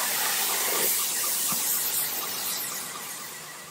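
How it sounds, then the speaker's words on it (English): Spray can hissing steadily as it lays silver protective coating onto a rubber flat roof, a continuous close broadband spray lasting the whole stretch with a slight fade toward the end. "While I'm spraying, you constantly have to mix."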